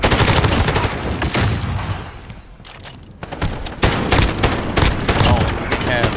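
Rapid bursts of automatic gunfire from an online Modern Warfare gunfight, dense and loud, dipping briefly into a quieter lull before the firing resumes just as intensely.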